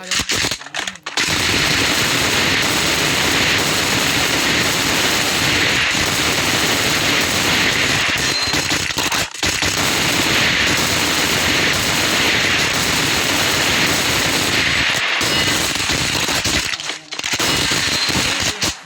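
Loud, rapid bursts of automatic gunfire while shooting enemies, likely in a video game, running almost continuously with a few brief pauses between volleys.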